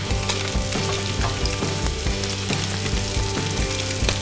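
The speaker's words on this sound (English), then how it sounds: "You can see that that's sizzling beautifully straight away" A fish roll fries in avocado oil, giving a loud, steady sizzle with small crackles and pops throughout and no talking.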